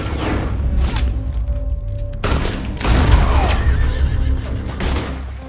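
Spooked, wounded horse whinnies and neighs loudly in Red Dead Redemption 2 amid a rapid burst of gunfire, with hooves clattering beneath the cries.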